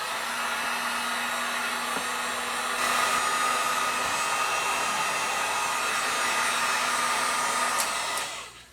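A heat gun blasts hot air onto a bolt washer inside an adapter to soften epoxy, a steady loud whooshing roar that holds for about eight seconds before winding down.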